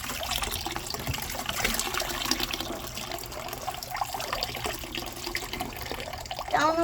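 Water splashing and pouring into a rock tumbler bucket holding agates, a continuous noisy wash of sloshing liquid that swells briefly near the end, close by.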